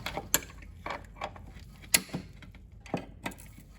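Ratcheting and clicking of a wrench snugging down a CV axle nut on a 1998 Toyota RAV4, heard as several separate sharp metallic clicks spread across a few seconds at close range, with no speech.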